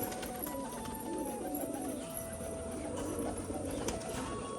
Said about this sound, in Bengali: এই যে কিন্তু নর পায়রাটা দেখুন